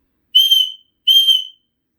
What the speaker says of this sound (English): she blew her silver whistle twice